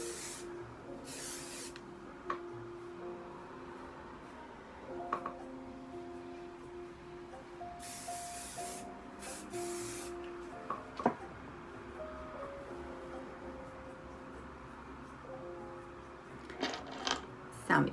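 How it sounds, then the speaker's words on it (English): Hairspray hisses onto hair in a few short bursts, quiet and close, with faint rustling between the sprays. "A little bit of hairspray."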